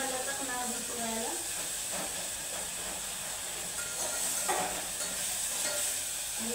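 Tomatoes frying in hot oil for khichdi: a steady, close sizzle and hiss that runs throughout, with someone speaking over it at times.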